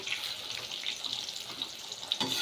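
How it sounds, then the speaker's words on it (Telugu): Tap water runs steadily into a sink during handwashing in a home kitchen, with a continuous hissing splash at moderate level and no talking. "ఇప్పుడు నేను కొంచెం హ్యాండ్ వాష్ చేసుకొని మళ్ళీ వచ్చి మాట్లాడతాను"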